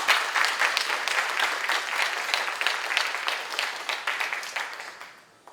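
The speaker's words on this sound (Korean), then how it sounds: "우리 모두 하나님께 영광의 박수 한번 드립니다." Sustained applause from a church conference congregation giving glory to God, dense steady clapping from many hands that fades out near the end.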